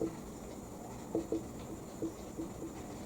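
Pen strokes scratch on paper in short, soft bursts spaced through the stretch, close and quiet over a faint room hum, with no talking.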